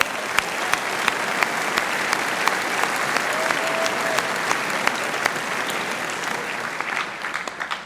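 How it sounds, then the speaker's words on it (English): A large reunion audience in a hall applauds steadily, a dense, even wash of clapping that holds at full strength for several seconds and begins to thin out at the end. "Let's give yourself a round of applause."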